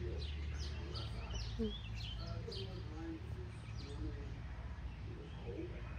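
Many newly hatched birds chirp and tweet in trees, a busy chorus of small calls at moderate distance over a steady outdoor hum, with people talking now and then.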